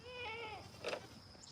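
Goats bleating on a farm in the morning: a few wavering bleats close by, a longer call first and a shorter one a moment later, over light background noise.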